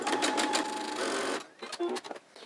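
A sewing machine runs steadily, stitching a fabric mask's liner and outer layer together, then stops and starts in a few short bursts near the end; no speech is heard.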